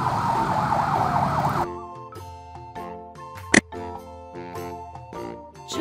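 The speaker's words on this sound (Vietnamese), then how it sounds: "Đây là xe cảnh sát của Philippines" A Philippine police car siren wails loudly, starting with a sweeping tone and then switching to a choppy, stepped pattern with sharp bursts, heard alone without any voices.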